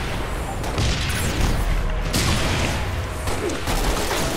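Dense, continuous gunfire and explosive booms from the video game Halo Reach, a loud, churning wash of battle noise with no distinct single shots and no talking.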